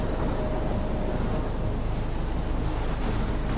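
Steady rain and a low thunderstorm rumble fill the scene in the game Life is Strange: Chrysalis, a constant, dense wash of noise with no voices.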